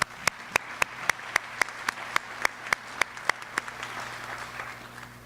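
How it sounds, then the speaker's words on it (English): Graduation crowd at the Sumter Career and Technology Center gives another round of applause, a soft steady wash of clapping with a series of sharp, evenly spaced louder claps or taps cutting through it. "Let's give them another round of applause."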